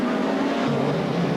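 A 550-horsepower BMW touring car from 1990 British Touring Car Championship racing roars at full power, a loud, steady, dense engine drone filling the short stretch without a break.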